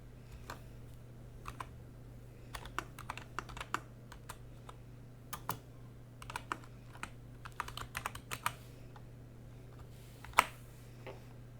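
Typing on a computer keyboard while filling an online form, heard as quiet, irregular close key clicks in short bursts over a low steady hum, with one sharper keystroke near the end.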